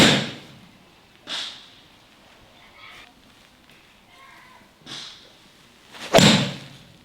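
A Callaway Apex Pro golf iron strikes a ball, giving a few sharp, loud impacts spaced several seconds apart, the last one the strongest, with quiet stretches between them.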